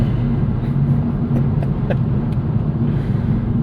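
A 2009 Chevrolet Cobalt SS with a turbo pulls hard in third gear, its engine holding a loud, steady low drone with no spoken voice over it.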